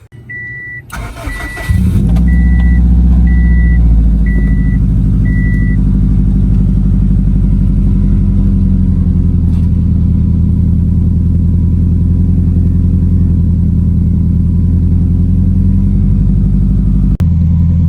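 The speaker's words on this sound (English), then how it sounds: "That way we can go ahead and start the car." A Subaru STI engine built to about 700 whp cranks and catches, then settles into a loud, steady idle rumble while a few short electronic beeps chime at the start.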